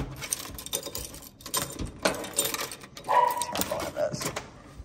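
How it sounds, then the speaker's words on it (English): A pet dog barks and yips near a returning owner while people talk over it, the barks irregular and mixed with footsteps and household clatter. "There's my dog."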